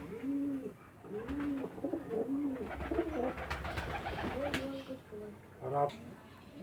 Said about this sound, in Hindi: इस टाइम ये दाना खा रहे हैं ये कबूतर।